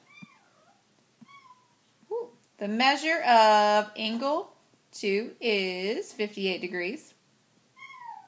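A house cat meows repeatedly in a quiet room, several drawn-out, loud, close calls in a row after a person speaks briefly.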